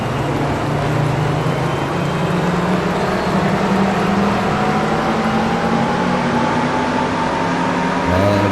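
NASCAR stock cars race at the Qatar circuit in a video game, a loud continuous engine drone with pitch rising and shifting as cars accelerate, several engines overlapping, no talk.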